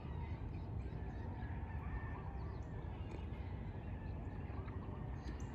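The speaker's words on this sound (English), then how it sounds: "There's a lot of chickens down there." Many chickens clucking far off on a Maui morning, a steady low murmur of fowl calls blended with outdoor ambience, no talking.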